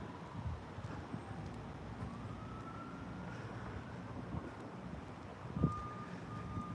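A truck's reversing alarm beeps faintly in the distance at an early-morning roadside, a thin repeating tone over steady low traffic rumble, with a brief thump partway through.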